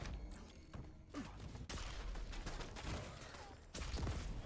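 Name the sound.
gunshots in the video game Quake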